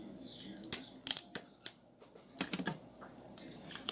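A short strip of tape is cut with scissors for cat-eye eyeliner, giving several sharp close snips and crinkles in irregular bursts, with faint handling noise between them.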